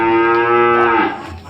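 A cow gives a long, loud, close moo with a strong tonal drone that bends and fades toward the end, heard at a cattle farm among traders and breeders with no talking over it.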